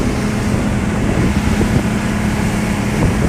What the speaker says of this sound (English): the background sound of a massive outboard motor